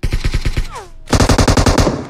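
Rapid automatic gunfire in a shooter video game, loud and close, comes in two fast bursts separated by a short pause with a brief sliding tone.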